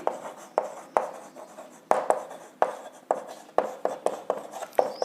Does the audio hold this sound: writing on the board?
yes